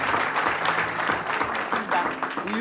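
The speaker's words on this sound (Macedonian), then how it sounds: "Ајде уште една аплауз." An audience applauds during a Macedonian television talk show, a dense, steady wash of clapping that holds for the whole short stretch, loud and near, with a voice briefly audible over it.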